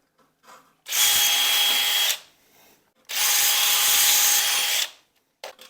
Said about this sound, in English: We're gonna drill them out again a little bit